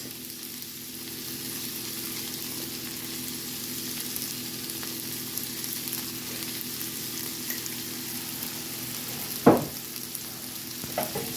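Broccolini with caramelized onion and mushrooms sizzles steadily in a pan, a constant close frying hiss with a single sharp stirring scrape near the end.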